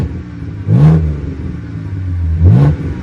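A 2011 BMW E92 six-speed with a straight-pipe, muffler-delete exhaust idles loudly nearby and rises in two short revs, its low rumble swelling and falling back each time.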